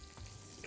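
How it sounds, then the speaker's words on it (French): Shrimp and calamari rings frying in a pan with a faint, steady sizzle and soft crackles, quiet and close, no voices. "on les met au début, les crevettes et les rondelles de calamar, pour que ça soit prêt et bien doré"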